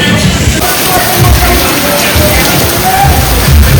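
Heavy rain pours at a farmhouse swimming pool in India, a loud, close, continuous wash of falling water with muffled rumbling underneath.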